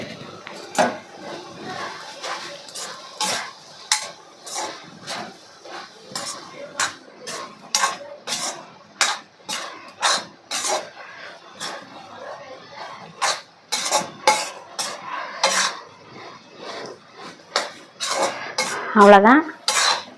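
A metal spoon scrapes and knocks against a pan while goat liver fry is stirred with grated coconut. Irregular clinks and scrapes repeat steadily and close by, and a voice speaks briefly near the end.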